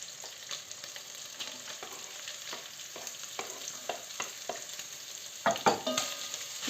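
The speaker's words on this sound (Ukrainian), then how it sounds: "До цього підсмаженого м'яса, такого, ми даємо тепер цибулю. Ще розмішуємо гарно і даю цибулю." Meat and onion fry in a pan for Hutsul-style roast, with a steady close sizzle and a run of scraping stirs, ending in a louder burst of spatter as the onion goes in.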